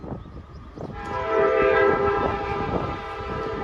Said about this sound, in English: Nice horn, looks like.